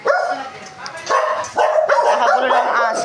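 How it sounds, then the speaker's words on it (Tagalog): A dog barks and yips repeatedly in a home during a family gathering in the Philippines, the bursts coming in uneven clusters close to the recorder, with people talking over and between them. "Nakagulo ng aso."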